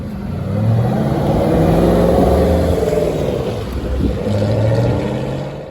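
An Aston Martin Vantage GT8 with a V8 engine revs hard nearby, loud rising and falling engine notes that swell and ease across several seconds, with no voices.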